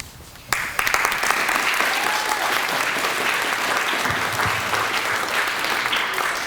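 Applause from a school event audience, breaking out suddenly after a short quiet start and holding as a steady, full wash of clapping to the end.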